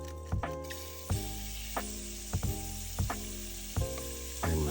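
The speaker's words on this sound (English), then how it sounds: "Saute oil and shrimp." Shrimp tossed with Cajun seasoning sauté in hot oil, a steady sizzle broken by several sharp clinks and scrapes of a utensil against the pan.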